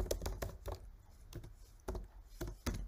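Quick, irregular clicks of keys being typed on a computer keyboard, close and fairly quiet, with short pauses between the bursts of keystrokes.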